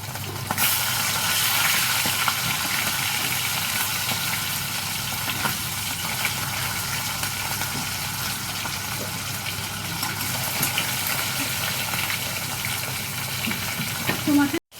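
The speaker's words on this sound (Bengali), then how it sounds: "এদিকে রান্নাটা মাছটা ভাজা হতে লাগুক মাছটা উল্টে দিলাম" Fish fries in a pan at close range with a steady, dense sizzle that runs unbroken throughout and cuts off abruptly at the end.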